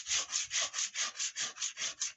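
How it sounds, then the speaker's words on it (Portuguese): A bamboo spoon is sanded by hand with sandpaper, giving about ten even, rhythmic back-and-forth rasping strokes, close and clear with no talking. "Eu tô lixando manual com essa lixadeira aqui, ó."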